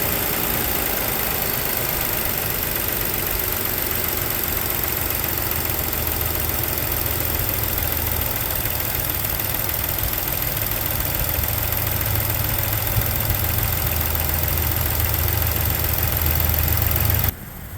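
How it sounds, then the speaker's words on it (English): Engine of a 2016 Ford Explorer Police Interceptor Utility idling steadily, with a loud constant low hum and broadband noise running the whole time until it cuts off at the end. "just turned on the engine for you"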